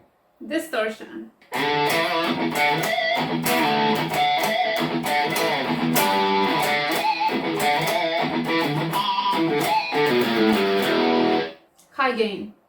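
An ENYA Nova Go Sonic smart electric guitar plays with its distortion effect: dense, buzzing, loud chords strummed in a driving rhythm for about ten seconds. A voice speaks briefly before and after.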